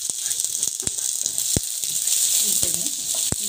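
Onion, garlic, coriander and cumin fry in hot oil, giving a steady, bright sizzle broken by scattered sharp pops and crackles close by.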